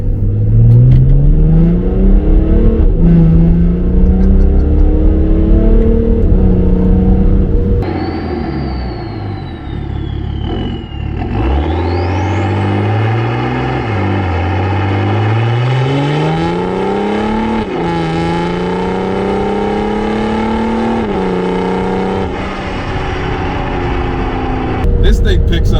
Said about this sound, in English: I'm gonna put this thing on sport tune, and we're gonna let this thing rip, because this thing has so much torque